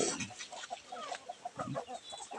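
Chickens cluck in short, repeated bursts on a farm where new chicks have hatched, the calls coming close and moderately loud in an irregular rhythm with no talking.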